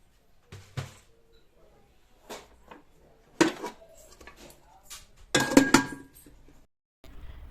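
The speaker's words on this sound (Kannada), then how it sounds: "ನಾನಿಲ್ಲಿ ಮತ್ತೆ ಪಾತ್ರೆಗಳನ್ನೆಲ್ಲ ಸಿಗ್ತಾ ಇದ್ದೀನಿ" Kitchen dishes and metal vessels are handled and stacked at home, giving scattered clinks and clatters in short bursts with quiet gaps between them.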